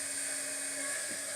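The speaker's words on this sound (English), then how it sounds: "I'm going to get my embossing gun heated up" An embossing heat gun warms up for stamped card making, giving off a steady, loud whine and airy blower hiss that holds unchanged throughout, with no voices.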